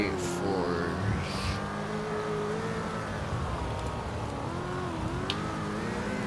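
A car drifting in a car crash video game, a continuous engine whine with wavering pitch and tire noise, steady and fairly loud throughout.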